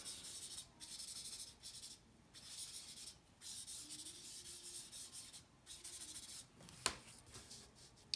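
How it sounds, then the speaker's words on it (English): A paper towel rubs across a crumpled paper value drawing to blend it, making a soft, continuous scrubbing rasp in repeated back-and-forth strokes, close and quiet, ending with a small tap. "you can use paper towel to blend it"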